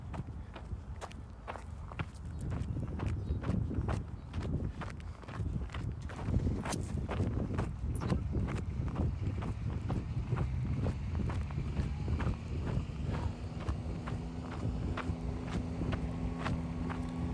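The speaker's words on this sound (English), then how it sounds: "very tranquil about just hearing the sounds of the footsteps and the insects, or just the sounds of nature during this race" Runners' footsteps crunch steadily along an outdoor trail during a Spartan race, with a brisk irregular patter of many steps close by and a faint insect hum in the background.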